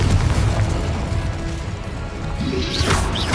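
In Hogwarts Legacy, a Confringo spell blast bursts in a crashing explosive impact amid dense combat noise, with a brighter whooshing flare rising near the end.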